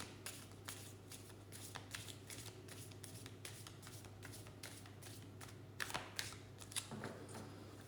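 A deck of tarot-style cards is shuffled by hand, giving quiet rapid riffling bursts and crisp flicks at an irregular rhythm over a low steady hum, with no speech.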